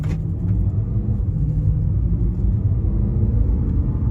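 Deep V8 engine rumble of a BMW M3 (E90) sports car pulling away, a low steady growl with no voices, close and fairly loud throughout.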